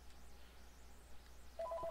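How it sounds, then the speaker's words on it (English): A landline telephone rings in the background at low level, a couple of short repeating tone bursts arriving near the end over steady room noise. "there's a phone going off in the background"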